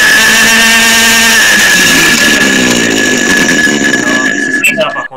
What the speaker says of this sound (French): à la fin je vais te faire écouter le bruit des moteurs